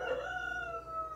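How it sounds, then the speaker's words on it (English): A rooster crows before dawn around five in the morning, one long, clear, drawn-out call with a rising then sustained tone, heard alone at moderate distance. "The roosters think it's time to get up."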